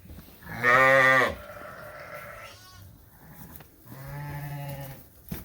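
Two loud, close lamb bleats in a lambing barn, one early and one near the end, with a fainter wavering call between them.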